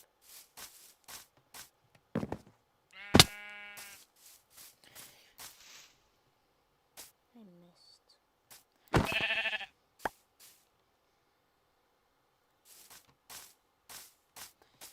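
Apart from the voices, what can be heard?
sheep bleating in the video game Minecraft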